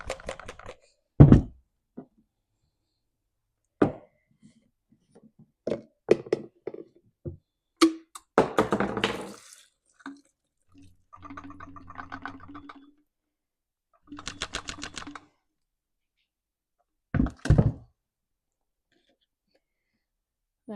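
Dirt being knocked out of the fuel tank of a Stihl 026 Pro chainsaw: scattered hard thunks and taps, a couple of loud close knocks and short rattling bursts, with quiet gaps between.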